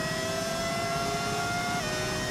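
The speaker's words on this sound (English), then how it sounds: "The Cadillac engine sounds nice." A modded V10 Formula 1 engine in F1 25 revs steadily at high pitch, a continuous whining drone with harmonic tones, loud and alone without talk.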